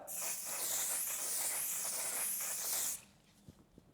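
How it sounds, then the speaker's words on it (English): Makeup finishing setting spray misted from a bottle, one steady close hiss lasting about three seconds and then cutting off, followed by a couple of faint taps. "I love the Until Dawn finishing spray."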